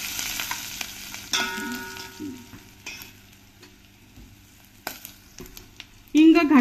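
Asafoetida dropped into hot oil for tempering sizzles and crackles in a pan, with a faint stirring scrape, and a louder burst near the end as the oil spits close by.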